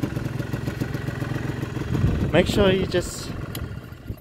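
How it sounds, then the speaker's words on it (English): A two-stroke motorcycle engine labors and sputters with the choke pulled too far, running rough and uneven at close range beneath a man's speech, its pitch surging briefly near the end. "As you listen, yep, the bike just struggles"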